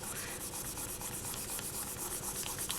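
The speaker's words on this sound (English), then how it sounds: "then just burnish this down thoroughly" Polymer clay backing is burnished by hand, giving faint, close, repeated rubbing strokes in a quiet, even rhythm.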